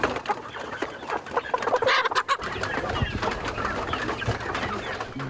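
Local farm chickens cluck repeatedly up close, several birds overlapping in irregular bursts over a few seconds, with a louder squawk near the middle and no talking.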